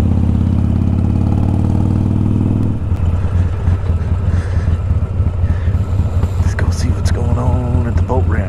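A Harley-Davidson Iron 883 motorcycle engine idles with a steady low throb at a boat ramp, then revs and keeps running with a rougher, pulsing growl, close by.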